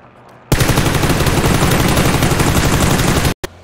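Sustained automatic machine-gun fire in a video game, a loud, dense rattling burst lasting about three seconds after a short quiet lead-in, then cutting off abruptly with a brief final pop.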